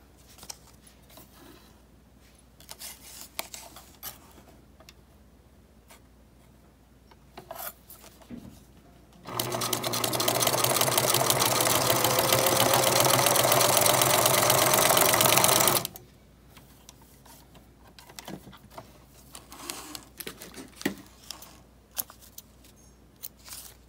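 A sewing machine runs a zigzag stitch through paper tabs for a junk journal, a steady whirring burst of about six seconds between quieter handling and rustling of paper.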